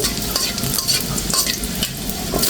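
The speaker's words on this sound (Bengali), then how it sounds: "এখন আমি একটু নেড়ে চেড়ে ভেজে দিচ্ছি" Cumin seeds and a bay leaf frying in oil, with a constant close sizzle broken by scraping stir strokes every half second or so.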